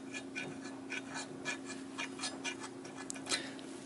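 A dry, unlubricated floating brake caliper on a 2010 Ram 2500 Cummins is worked back and forth, making faint, repeated dry clicking and scraping ticks in an irregular rhythm over a low steady hum.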